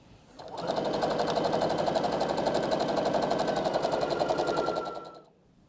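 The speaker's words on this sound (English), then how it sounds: "we've got the row I just sewed together" A sewing machine runs in one steady burst of about four seconds as it stitches a quilt row with a quarter-inch seam, whirring evenly at close range and then stopping.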